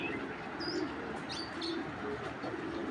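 Racer pigeons coo faintly in a loft amid steady background noise, with a few soft, low coos and scattered high chirps across the clip.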